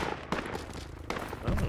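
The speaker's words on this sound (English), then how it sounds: "Yeah, enemy shooting." Enemy gunfire in the Project Reality military shooter, several distant sharp shots popping irregularly over a muffled background rumble, fairly faint overall.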